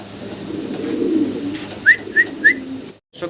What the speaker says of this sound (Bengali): অসাধারণ সুন্দর একজোড়া শর্ট পেস কবুতর